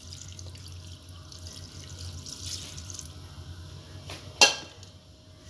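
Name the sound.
water filling a basin or bowl over couscous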